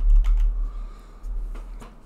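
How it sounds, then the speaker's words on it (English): A short coupon code typed on a computer keyboard, a few quick, soft, close key clicks in two small clusters over low background hum. "we're gonna type in the word gorilla."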